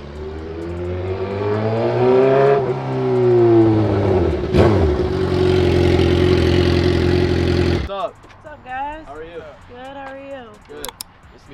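A Suzuki Gixxer 750 motorcycle pulls up nearby, its engine revving and shifting pitch loudly for several seconds before cutting off abruptly. Voices talk in the quieter stretch that follows.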